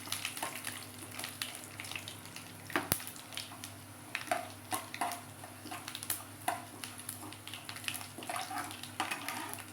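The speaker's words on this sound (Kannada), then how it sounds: "ಸಾಸಿವೆ ಸಿಡಿತಾ ಇದೆ. ಈಗ ಉದ್ದಿನಬೇಳೆ, ಕಡಲೆಬೇಳೆ ಹಾಕ್ಕೊಂಡಿದ್ದೀನಿ." Mustard seeds spluttering while urad and chana dal fry in hot oil for a South Indian tempering, with a steady sizzle broken by quick, irregular pops and crackles close by.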